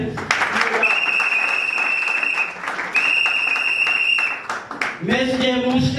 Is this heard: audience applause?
yes